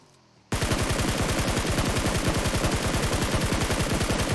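Sustained automatic gunfire from a spraying weapon in the battle-royale game PUBG Mobile, a rapid steady burst of loud shots starting abruptly after a brief quiet moment and continuing to the end.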